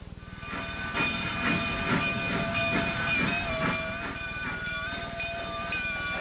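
A mountain excursion train from Antonito climbing on a narrow-gauge line, its steady rumble and rhythmic chuffing continuous and fairly close, with hissing steam and a long tonal whistle-like whine running over it.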